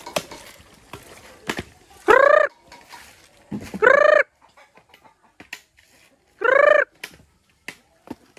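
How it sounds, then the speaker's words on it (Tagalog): Chickens cluck and a rooster-like bird lets out three loud, drawn-out calls, close by, between scattered small clicks and rustles. "Yung mga manok ko pala dito mga kabayan."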